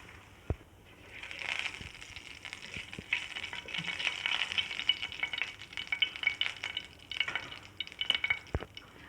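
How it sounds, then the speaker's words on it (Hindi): Half a teaspoon of cumin seeds sizzles and crackles in hot oil at close range, a steady frying hiss with occasional sharp pops and a few stirring clicks. "और अभी तेल गर्म हो चुका है, अभी इसमें डालूँगी ज़ीरा।"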